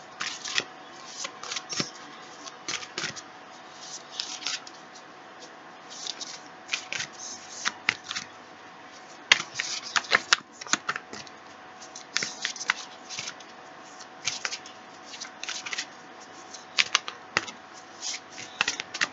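Tarot cards riffled and shuffled repeatedly by hand, soft papery flutters and snaps in irregular bursts, close and quiet, no talking.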